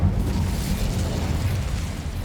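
A fire spell goes off in the Hogwarts Legacy video game: a steady, loud rumbling roar of flames with deep low-end weight that holds for a couple of seconds without a break.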